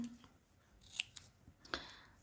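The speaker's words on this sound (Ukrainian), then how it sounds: "Далі я беру двосторонній скотч і розклеюю такі клаптики" Double-sided tape is torn into small pieces while making a cardboard and thread photo frame, giving a few sharp, brief snipping or tearing snaps with quiet pauses between, close and alone.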